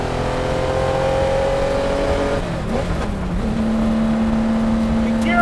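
Loud, continuous engine roar from inside the cockpit of a 1965 Le Mans-winning Ferrari 250 LM race car, sustained high revs dipping briefly around a gear change before climbing steadily again.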